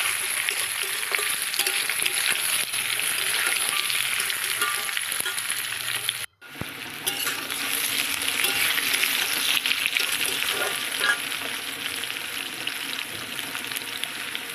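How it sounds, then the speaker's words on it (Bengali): Taro pieces fry in hot oil seasoned with cumin and bay leaf, a steady close crackling sizzle with a brief break midway, plus occasional utensil clinks. "আর এখানে আমি কচুগুলো তেলের ওপরে দিয়ে দিলাম"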